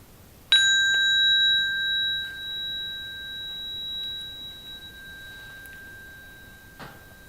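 A single bell is struck once, giving a clear bright tone that rings on and slowly fades, with a faint tap or two later on.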